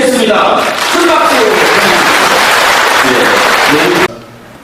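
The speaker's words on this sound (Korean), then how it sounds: "한국총연합회 김성훈 회장님을 박수로 모시겠습니다. 큰 박수." An indoor audience applauds loudly to welcome the president of a Korean federation onto the stage, a dense sustained clapping that cuts off sharply after about four seconds, with a voice heard briefly at the start.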